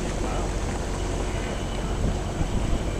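A sailboat motor-sailing on Lake Washington, a steady low engine drone blended with wind and water rush, constant and fairly close.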